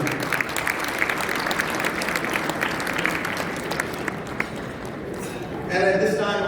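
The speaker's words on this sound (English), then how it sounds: "Can I give a round of applause for the council staff members?" A gala audience claps for council staff, sustained crowd applause that holds steady then eases off, before a voice comes in near the end over the last claps.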